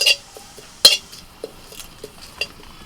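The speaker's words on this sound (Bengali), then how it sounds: "এবার কিছু কারি পাতাকে আমি শুকনো কড়াইতে একটু নাড়াচাড়া করে নেব" Sparse dry scraping and light clinks of a spatula stirring curry leaves in a dry pan, with a sharper metallic knock near the start and small taps after.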